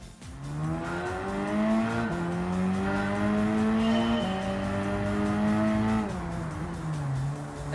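Hyundai Elantra racing in Gran Turismo 7, its engine droning steadily and rising in pitch through the gears, with brief drops at each upshift, loud and continuous with no talk.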